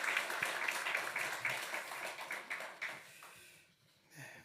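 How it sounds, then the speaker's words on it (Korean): A church congregation applauds its choir during a Sunday worship service, a broad wash of clapping that fades out toward the end before a brief faint rise. "우리 다시 한번 성가대 경의의 박수하겠습니다"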